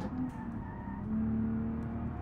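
A BMW engine in the BeamNG.drive driving game, overheated from running without coolant and low on engine oil, drones with a steady hum that swells slightly partway through, alone throughout.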